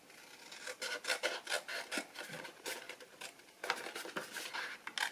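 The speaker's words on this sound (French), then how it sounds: "On découpe sur le pli." Scissors cut along the fold of a paper card for a pop-up craft, giving a close, rasping series of snips and rubs in uneven bursts.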